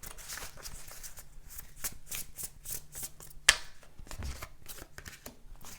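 A deck of tarot cards is shuffled by hand, close and quiet, in a rhythmic flutter of riffling strokes broken by a sharp snap of a card being pulled.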